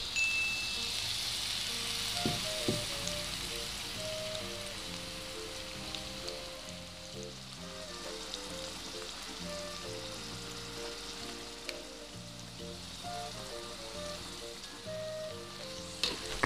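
Spices with lime and bay leaves sizzle in a pot as they are stirred for Makassar bone soup (sop konro), a soft, steady crackle that continues throughout with occasional light knocks.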